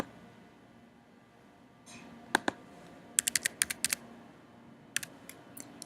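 A zip code is typed on a computer keyboard in short, crisp bursts of clicking keystrokes separated by pauses, close and fairly quiet, with no voices.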